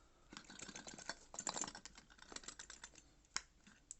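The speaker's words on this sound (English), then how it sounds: "there's a lot of individual pieces in here, the vast majority of them metal. So obviously this is going to rattle around a little bit" Many small metal pieces of a travel cutlery kit rattle and clink inside their carrying case, a dense run of quick, light, close clatters with a few sharper knocks.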